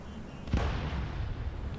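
A deep, rumbling blast from video game airstrikes hits after a moment of low noise, then a sustained roar of distant explosions and crackling debris.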